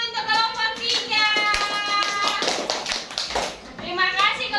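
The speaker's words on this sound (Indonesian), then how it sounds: "tepuk tangan dulu untuk kelompok 3" Children in a classroom clap for a presenting group, with sharp hand claps mixed with kids' voices and cheering calls over the top.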